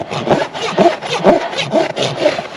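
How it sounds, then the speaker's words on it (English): A farrier's rasp files a horse's hoof during a barefoot trim, the rasp somewhat clogged, giving repeated rough scraping strokes about every half second, close and steady. "rasp is starting to get clogged"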